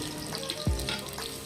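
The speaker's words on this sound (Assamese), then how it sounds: "কেৰাহীখন গৰম হোৱাৰ পাছতে এয়া তেল দি তেজপাত দিলে আৰু লগালগ পিঁয়াজ" Bay leaf and onion dropped into hot oil in a kadai, giving a sudden close sizzle that settles into steady frying, with no voices.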